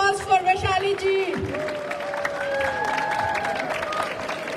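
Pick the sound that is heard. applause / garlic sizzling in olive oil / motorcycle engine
applause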